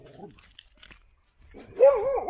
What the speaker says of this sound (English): there's some strange dog around that I haven't seen before and try to attack me